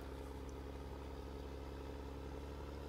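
A tractor engine drones steadily in Farming Simulator 15, a constant low hum with no change in pitch or level throughout, with no talk.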